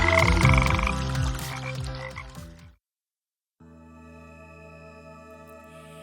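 Frogs croaking in a dense, loud chorus with overlapping calls, then a brief silence before a steadier, softer croaking chorus resumes.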